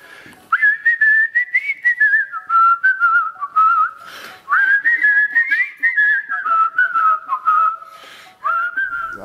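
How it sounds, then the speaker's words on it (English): A person whistles a melodic tune alone, in two long sustained phrases with sliding pitch, clear and close with no talking. "You got a better whistle in you"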